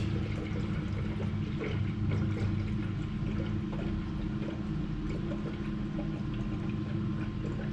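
Water pours steadily into a car's coolant reservoir in a continuous low, splashy stream, close by and moderately loud, with no talking.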